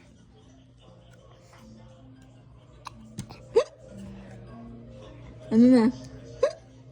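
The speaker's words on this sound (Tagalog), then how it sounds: "Sinisinok ka? Sinisinok?" A baby hiccups repeatedly, sharp little hiccup bursts spaced a second or so apart, over a low steady hum, while an adult talks softly nearby.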